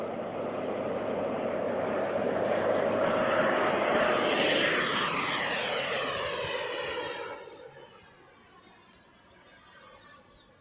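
A Model Studios Fouga Magister radio-controlled model jet flies past, its turbine whine swelling loud overhead, then fading and dropping away as the plane moves off into the distance.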